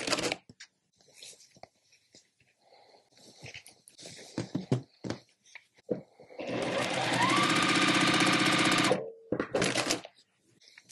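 Quilt fabric strips are handled with soft rustles and taps, then a sewing machine runs fast and steady for about two and a half seconds, stops briefly, and makes a short final burst, all close.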